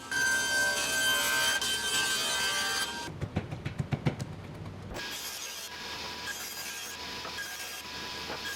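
Wooden shelf boards being cut to size, with a bright whining hum first, then a burst of rough rhythmic sawing strokes, followed by steadier machine noise and no talking.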